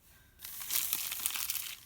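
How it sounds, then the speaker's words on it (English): A plastic bag holding a craft magazine crinkles and rustles steadily up close, a brief quiet moment giving way to continuous crackling handling. "It's in a plastic bag."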